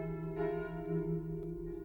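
A church bell at a former Dominican convent rings with a sustained, humming tone and steady overtones, moderately distant and unbroken throughout.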